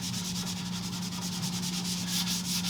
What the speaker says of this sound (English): And you use the pad to really work it in to the grain of the wood.